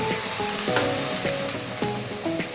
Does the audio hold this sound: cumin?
yes